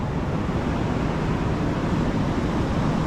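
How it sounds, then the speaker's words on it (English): Ocean waves wash in at a jetty on Galveston beach, a steady broadband rush of surf with wind noise, continuous and fairly loud. "the waves all coming in here"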